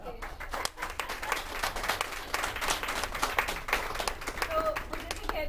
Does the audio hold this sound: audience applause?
yes